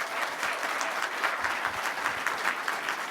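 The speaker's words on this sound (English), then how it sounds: "a nice big Indian applause for Dr." An audience claps for Dr. Raghuram Rajan in a dense, sustained round of applause, steady and fairly loud from start to finish, with a faint murmur of crowd underneath.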